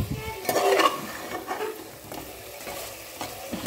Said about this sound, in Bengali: কষবো, জলটাকে শুকিয়ে নেবো